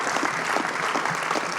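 Dense, continuous applause from an audience at a community announcement event, loud and sustained throughout.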